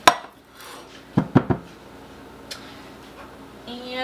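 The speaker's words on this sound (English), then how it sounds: "we're going to add in our can of whole corn that's been drained and rinsed" Drained and rinsed canned whole corn tipped into a baking dish for a Southern-style corn pudding: a sharp clink at the start, then three quick metallic knocks of the can against the dish and a faint later tap.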